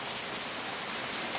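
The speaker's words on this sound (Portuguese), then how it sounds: "Rapaz, olha a chuva. Tá chovendo bastante" Heavy rain falls steadily, a dense, even hiss of drops filling the space without a break, loud and close.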